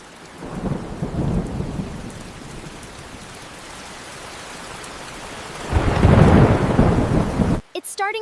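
Rain falls steadily on a town street with thunder, a soft hiss punctuated by a low rumble early on and a heavier, louder roll of thunder near the end.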